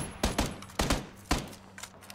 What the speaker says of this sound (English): Oh shit, we're getting shot from behind.